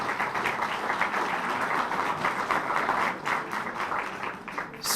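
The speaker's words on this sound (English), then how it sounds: "And give them a round of applause." An audience at a community forum claps in sustained, dense applause that carries on steadily throughout and fades slightly near the end.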